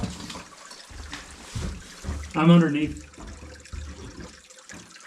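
A stream of water flowing inside a cave, a soft trickling and gurgling wash under nearby voices, with a brief louder watery splash midway.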